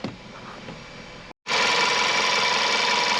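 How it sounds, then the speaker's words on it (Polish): A warmed-up car engine idles evenly without misfiring or vibration, after earlier rough running and power loss. A quieter steady hum breaks off briefly, then returns as a louder, close, continuous drone. "Równiutko pracuje silnik, zobaczcie."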